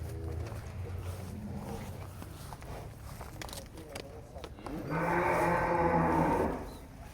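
A huge qurban bull at a cattle farm lets out one long, loud moo near the end, preceded by shuffling and background chatter as people talk nearby.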